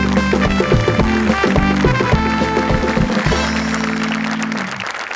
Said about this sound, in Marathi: मला वाटतं एकदा आपल्या आर्ट टीमसाठी जोरदार टाळ्या झाल्याच पाहिजे.